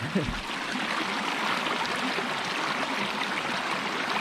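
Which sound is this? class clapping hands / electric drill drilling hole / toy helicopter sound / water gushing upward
water gushing upward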